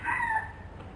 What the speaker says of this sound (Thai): เรามีไก่เข้ามาทิ้งหลายตัวให้เลี้ยงขัน เข้าเครื่องอัดเทปนี้อยู่บ่อย ๆ